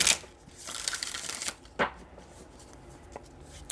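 A deck of tarot cards is shuffled close by, giving soft papery riffles and brief slaps in a few short bursts with quiet pauses between them.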